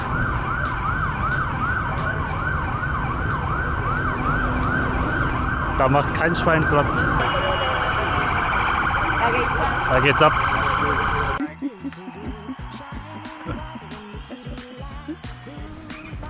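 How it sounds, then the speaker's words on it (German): A wailing ambulance siren sweeps up and down amid traffic noise in Santiago for several seconds, then cuts off abruptly; someone talks briefly over it. "So schaut es übrigens in Santiago aus, wenn der Krankenwagen vorbei muss."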